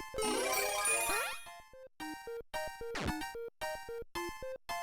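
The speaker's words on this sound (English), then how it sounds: "I hope the P-switch music here is not getting too monotonous" Jingly P-switch music from Super Mario Maker plays as a bright, repetitive chiming loop of short tonal bursts with brief gaps, after an opening cascade of rising sparkly notes and a quick swooping effect midway.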